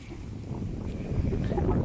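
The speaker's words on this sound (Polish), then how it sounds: "ale wieje. Ale tak ciepły wiaterek jak wiosną" Warm, spring-like wind blowing through a garden, a steady low rushing that builds slightly toward the end, with no voices.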